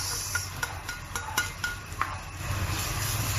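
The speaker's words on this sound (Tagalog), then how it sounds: "Pag mainit na po ang mantika, lagay ang luya at sibuyas." Ginger and onion go into hot cooking oil in a pan for escabeche, bringing a steady soft hiss with several light clinks and scrapes of utensils against the pan.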